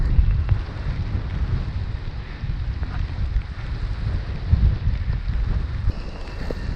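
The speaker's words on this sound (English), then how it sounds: "It's a nice crosswind." A strong crosswind buffets the microphone during a rainy motorbike ride through country lanes, a constant low roaring rumble with gusty surges and no voices.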